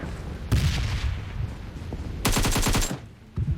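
UMP submachine gun fire in the video game PUBG Mobile: two loud, close bursts of rapid automatic shots, the first short and the second longer and denser, followed by a brief final shot.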